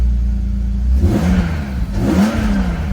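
A BMW 850i E31 engine running steadily, then revved twice in quick succession, each blip rising and falling in pitch over a loud, close idle.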